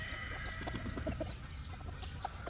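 A gamecock brood stag clucks softly in short, scattered notes, faint against a steady background hum.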